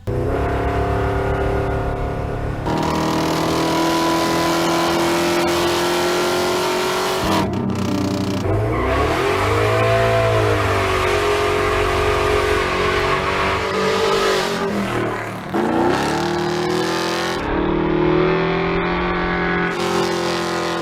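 A loud V8 engine in a muscle truck revs hard, its deep rumble swelling and dropping through repeated throttle bursts, close and continuous with brief cuts between revs.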